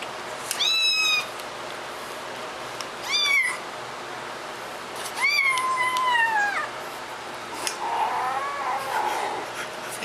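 A kitten meows indoors in three or four distinct, high-pitched cries spaced a couple of seconds apart, fairly close, with a softer murmuring sound near the end.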